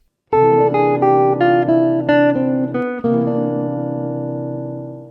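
Jazz guitar plays a quick minor single-note line over a dominant chord, the notes stepping down in a steady run before ending on a held chord that rings out alone.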